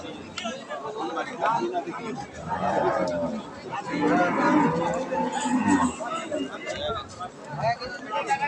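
A Friesian dairy cow at a cattle market moos several times, low and drawn out, amid the chatter of a nearby crowd.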